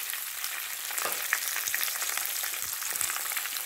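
Red chillies fry in a hot pan for a mint and tomato chutney, a steady close hiss and crackle with scattered small pops and no talk.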